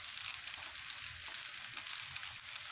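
Spring onions frying with vegetable fried rice, a steady soft sizzle in the pan that goes on without a break, fairly quiet and heard alone.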